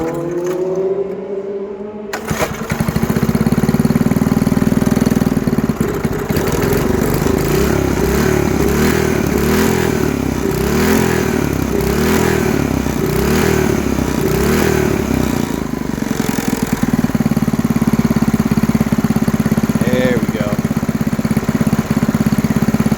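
A Briggs and Stratton 5hp flathead engine starts after a brief quiet moment and runs with a loud, steady, close chugging putter, its pulsing roughening for a stretch before settling back to an even idle, no voices.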